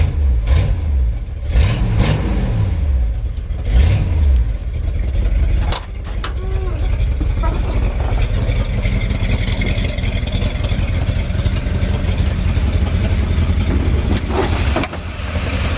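A Ford F250 highboy's big block 460 V8, rebuilt with low miles, runs loud and close with a steady deep rumble, rising in a few revs early on before settling into a constant drone.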